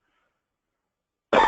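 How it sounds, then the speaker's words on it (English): A single short cough from a person in a school board meeting room, loud and close, bursting out suddenly after near silence. "Apologize for the cough."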